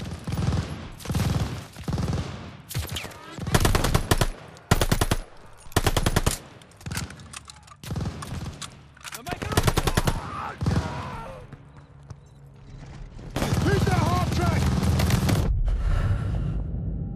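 Machine gun fire from a half-track in the Call of Duty: Vanguard campaign, repeated loud bursts of rapid automatic shots separated by brief gaps, ending in one long sustained burst, with shouted voices mixed in.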